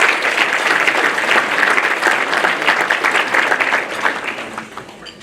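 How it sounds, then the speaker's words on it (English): A banquet crowd at a baseball first pitch dinner claps warmly, many hands in a loud, dense ovation that holds for several seconds before tapering off near the end. "So y'all give her a round of applause."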